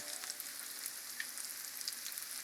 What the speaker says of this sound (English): How nice is it sizzling?